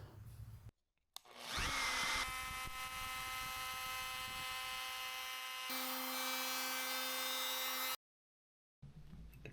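A power tool, likely a router, whines at high pitch as it rounds 3/8 inch corners on MDF, running in one long steady burst that shifts tone midway before cutting off abruptly.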